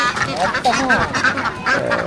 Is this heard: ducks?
yes